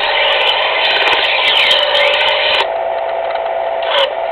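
A Smith electric knife sharpener grinds a knife blade in a loud, close, continuous whirring rasp whose pitch shifts partway through before the sharpener winds down, with no talk.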